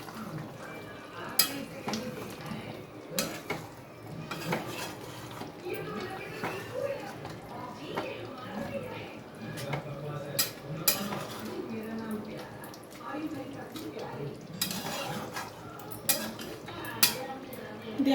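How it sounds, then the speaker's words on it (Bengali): Fried onions tipped into a pan for lemon chicken and stirred, with steady clanks and scrapes of a utensil against the pan and a soft sizzle beneath, close by, while a person talks. "এর মধ্যে আমি ভেজে রাখা এই পেঁয়াজগুলোকে এবার দিয়ে দিচ্ছি। দিয়ে আবারও ভালোভাবে একটু নেড়ে নিচ্ছি।"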